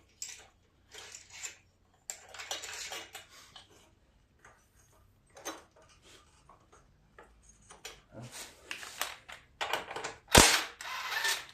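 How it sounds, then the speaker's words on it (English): A ratchet wrench loosens a bolt on a Craftsman rear tine tiller, short bursts of quick clicking close by separated by pauses, with a sharp metallic clink near the end. "You got to take that bolt off to get the belt off."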